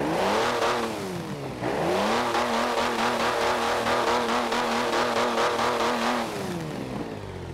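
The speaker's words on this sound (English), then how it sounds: "Car sounds great." A loud old car engine in the video game Forza 7 hums steadily with harmonic tones, briefly dropping in pitch then revving back up and holding a droning cruise.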